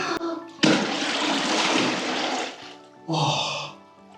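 Someone plunges into a very cold bath at ancient baths on the Costa del Sol, Spain: a loud, broad splash and churn of water lasting about two seconds, then a gasping breath and a shorter second burst of sound.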